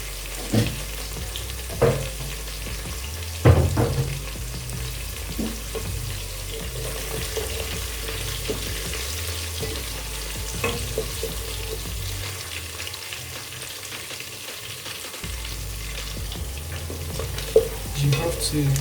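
Broken fish pieces fry with onion in a pot for garden egg stew, a steady sizzle running throughout with occasional scrapes and stirring knocks from a utensil, and a few sharper clinks.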